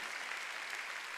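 A congregation claps at a Sunday church service, a dense, even patter of applause that sounds soft and somewhat distant, without voices.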